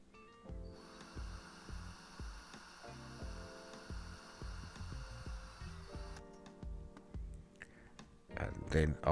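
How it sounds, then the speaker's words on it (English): A small drill bores out a rivet on a Ford Cortina MK1 Estate, a steady high whine held for several seconds at low level, with faint clicks and a brief louder clatter at the end. "now using a small drill just to drill out the first part of the rivet"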